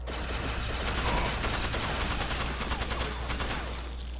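A SCAR rifle fires in a first-person shooter match, sending rapid bursts of automatic gunfire that rattle close and loud through most of the clip before easing off near the end.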